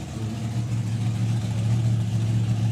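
Drag racing car engine at the NSRA Nostalgia Nationals, a steady loud low droning roar held throughout without clear revving peaks, no talk.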